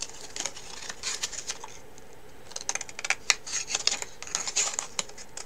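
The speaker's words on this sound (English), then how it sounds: "So now I can take my scissors" Scissors snipping through card during a card-making craft project, a series of crisp, irregular close-up cuts in short bursts with brief pauses between.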